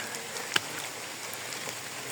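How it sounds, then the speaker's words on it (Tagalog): Light rain falls on a mountain hike on Mt. Talinis, a soft, steady hiss with one brief tap of a drop, faint and without talking. "Medyo maulan-ulan guys."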